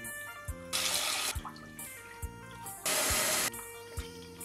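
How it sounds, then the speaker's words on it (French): Rice is rinsed in water with the tap running in short bursts between softer swishing and clinks of grains against the bowl, close and quiet. "Premier, on rince le riz 2 à 3 fois."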